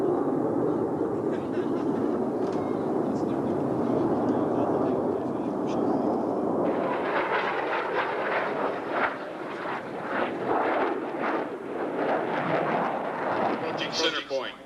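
Air Force Thunderbirds demonstration jets flying in diamond formation at an air show, a distant rumbling roar under an announcer's amplified commentary, turning into a rougher, pulsing jet noise in the second half.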